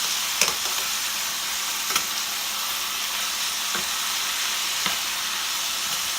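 Saltfish sizzles steadily in a hot frying pan as it is tossed, a continuous close hiss broken by a few sharp scraping clinks of the utensil against the pan.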